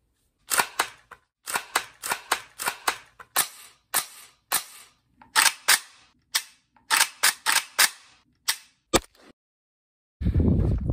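Rifle shots fired at a 100-yard range through a SIG Sauer Tango MSR 1-6 scope: about twenty sharp, loud reports spaced irregularly over several seconds, each with a short ringing tail, followed by a burst of rustling noise at the end.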